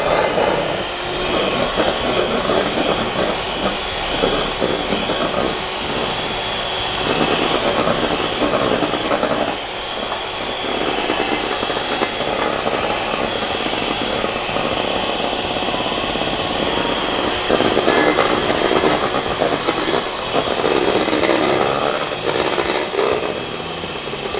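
A steady, loud electric mixer whirs continuously while beating pudding mixture for a layered Oreo pudding cake, its motor drone unbroken and close throughout.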